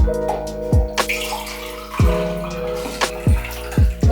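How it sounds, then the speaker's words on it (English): Blix developing chemical splashes and gurgles into a container in short bursts, with hollow resonant glugs repeating every second or so, close up. "Pour it back into this container here."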